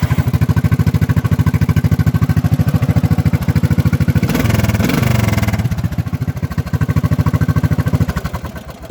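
A lawn mower engine with its governor still fitted runs close and loud with a fast, even chug, then revs up briefly in the middle before returning to its steady beat.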